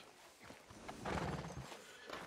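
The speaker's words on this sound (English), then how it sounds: "Hitch the damn horse." A horse in Red Dead Redemption 2 gives a snorting, whinnying burst midway, with soft hoof and movement sounds around it, quiet and close.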